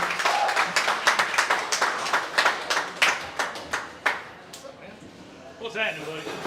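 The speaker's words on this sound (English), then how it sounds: "Everybody give a big round of applause for Buckeye High School's head football coach" A small audience applauds Buckeye High School's head football coach on a coach's show: a loud burst of distinct, irregular hand claps that gradually thins to scattered claps, with voices murmuring underneath.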